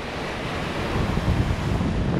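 Rough, furious sea waves surge and break while someone fishes with a hand line, a heavy low rumble of surf mixed with wind buffeting the microphone, swelling louder toward the end.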